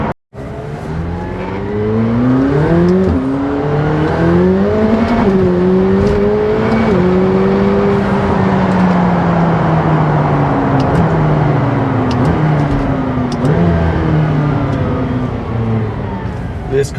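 McLaren 720S sports car engine pulls hard through the gears, rising pitch with brief dips at shifts and a loud, close, sustained roar over a long stretch.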